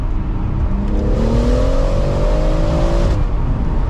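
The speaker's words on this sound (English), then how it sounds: "So this car does have an M Performance exhaust." A BMW M140i with an M Performance exhaust revs hard in second gear, the engine note rising for a couple of seconds, then easing off, loud and close.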